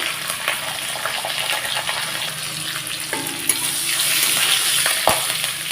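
Ginger and slit green chillies fry in hot oil in a pan for khichuri, giving a loud, steady sizzle with occasional clinks of stirring and no voices.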